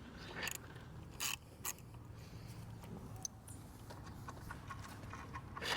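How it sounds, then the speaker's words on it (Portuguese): A small ratchet wrench loosening a stabilizer bolt on a Royal Enfield Continental GT 650, faint, quick clicking bursts scattered among soft handling noises in a quiet space. "No caso aqui eu tenho uma chavinha catraca que já me ajuda bastante."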